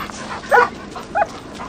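A dog lets out two short, yelping barks about half a second apart, fairly close, over a faint background hum.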